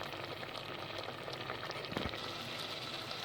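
Pumpkin cooked with jaggery and a pinch of salt thickens into halwa in a pan on the stove, giving a faint, steady sizzle and bubbling with a few soft pops and no voices.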